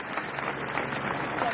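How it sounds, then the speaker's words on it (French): A large crowd at the Paris Marche Républicaine applauds steadily, a dense patter of many hands clapping at once, fairly close and continuous throughout the short stretch. "sous les applaudissements de la foule"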